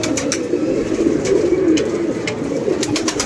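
Pigeons coo close by in a soft, continuous rolling murmur, with a few faint chirps and small knocks scattered over it.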